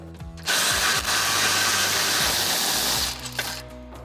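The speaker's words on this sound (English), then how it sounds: "So we're gonna grab our 16mm socket and remove those." A power tool with a 16mm socket whirs loudly for about three seconds, removing bumper bolts from the frame horns of a Jeep Wrangler JL; brief clicks and handling noise come before and after the run.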